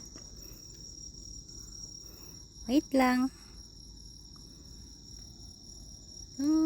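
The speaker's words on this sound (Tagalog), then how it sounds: "May maririnig kayo mga kuliglig." Crickets chirp steadily at night in Undo Park in Fukui, Japan, a constant high trill running through the whole stretch, while a voice speaks briefly now and then.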